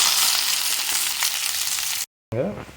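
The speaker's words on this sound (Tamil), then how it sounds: "கடுகு வெந்தயம் காஞ்ச மிளகாலாம் நல்லா வதங்கிடுச்சு இப்போ நான் ஆனியன் ஆட் பண்ணிக்கிறேன்" Onion frying in oil with mustard seeds, fenugreek and dried red chillies for ladies finger sambar, a loud dense sizzle that cuts to silence briefly, followed by a snatch of voice.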